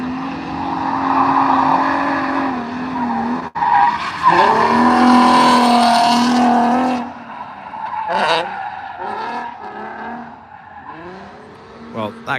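A drift car with a stock-sounding engine revs hard and skids past with squealing tires at Ebisu Circuit, Japan, engine note rising and falling, followed by more revving and tire noise nearby.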